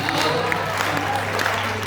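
An audience at a university poetry recital claps in a brief, steady burst of applause, even and fairly loud from start to finish, with a low electrical hum in the hall.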